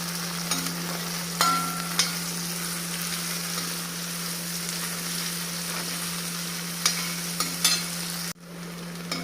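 Eggplant and big onion sizzling and frying in hot oil in a pan for a Tamil brinjal thokku, a steady close hiss with occasional stirring clinks, under a constant hum until it drops near the end.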